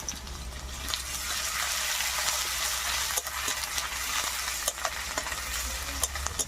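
Chillies, ginger and grated garlic fry in a pan for a mixed-vegetable curry with prawns, a steady close sizzle punctuated by scattered stirring clicks and scrapes, with no talk over it.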